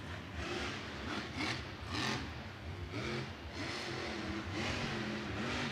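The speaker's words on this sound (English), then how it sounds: "I love listening to the way Krysten drives this truck. It sounds just like her dad. She has that Anderson throttle rhythm." Grave Digger monster truck engine revving hard in a Monster Jam freestyle, a loud, continuous roar that surges and eases in rhythmic throttle blips, with crowd noise in the background.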